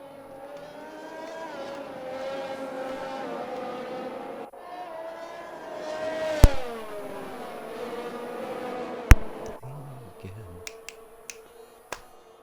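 Formula race cars in a racing video game, several engines whining past with rising and falling pitch, a steady high roar broken by a few sharp clicks and a pause, with commentary voices over it.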